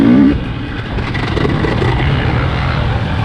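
A 2020 KTM 300 XC-W TPI two-stroke dirt bike running at Crow Canyon, a loud steady engine drone close by with wind buffeting, slightly louder at the start before settling into a constant roar.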